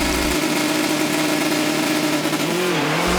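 Subaru rally car of Antoine Lestage and Darren Garrett at Rallye Baie des Chaleurs 2016 on wet roads, its engine roaring loud and continuous up close, pitch shifting briefly near the end.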